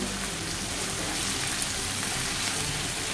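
Ginger garlic paste frying with chopped onion, tomato and green chilli in a pan for mushroom masala, a steady close hiss of sizzling oil without pause.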